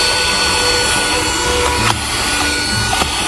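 A handheld mini vacuum cleaner runs with a loud, steady whirring hum and faint clicks as it moves over surfaces.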